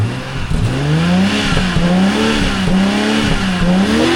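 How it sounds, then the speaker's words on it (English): A car engine revs loudly and close, rising and falling through several repeated pulls on the throttle, with a strong rumbling drone throughout. "So this is how this newer German car sounds."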